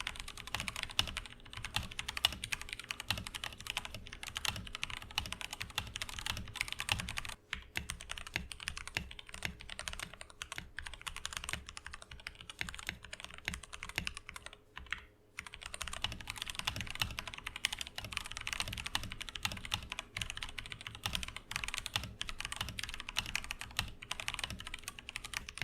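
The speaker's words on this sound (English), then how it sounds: "Now I'll be leaving a sound test showing the difference between the modded and the stock version of this keyboard." Continuous typing on an Akko 3108 v2 Monet's Pond mechanical keyboard, in both a modded and a stock version, a steady close-up stream of keystrokes with brief pauses and no talking.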